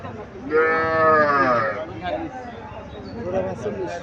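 Sahiwal heifer calves at a cattle market in Cumilla, one giving a loud, drawn-out moo of over a second, close by, with murmuring voices and a quieter lowing sound after it.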